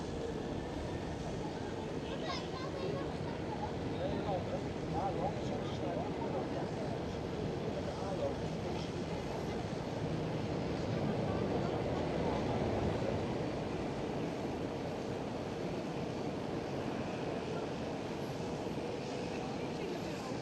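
A DHL airplane passes at Amsterdam Schiphol airport as a faint, distant, steady rumble lasting about twenty seconds, with murmured voices in the background.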